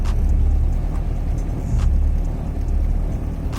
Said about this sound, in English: My idle's still kind of bouncing around